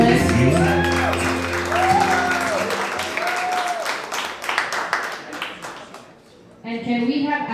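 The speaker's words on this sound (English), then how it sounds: "A big round of applause," Wedding guests break into a round of applause, the clapping mixed with music and a bright crowd wash that fades near the end before a voice and tones return.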